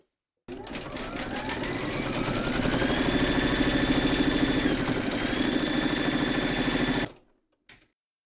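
Embroidery machine satin stitching with gold thread, a steady, loud mechanical whirr of rapid needle strokes running continuously for several seconds before stopping abruptly, followed by a brief click.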